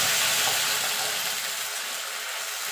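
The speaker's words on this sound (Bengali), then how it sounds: "দেখুন বন্ধুরা, তেলটা হয়ে গেছে। দিয়ে দেবো ফোড়নে গোটা জিরে।" Whole cumin seeds sizzling in hot oil as tempering for a Bengali rohu fish curry with ridge gourd and potato, a loud, bright, steady frying hiss that eases slightly toward the end.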